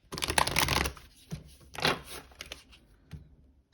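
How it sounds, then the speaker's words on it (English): Quick riffling shuffles of a tarot card deck, a couple of louder bursts followed by softer taps and slides, close up and quiet. "Do one last shuffle."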